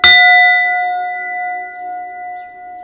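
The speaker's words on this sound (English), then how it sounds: "Get yourself some sound bowls." A singing bowl struck once rings out with a bright attack and a long, steady, slowly wavering tone that lingers clearly to the end, alone with no voices.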